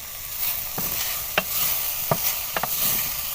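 Chopped green chilies sizzle in a hot frying pan with a steady close crackle, broken by a few sharp clinks of a spoon stirring against the metal.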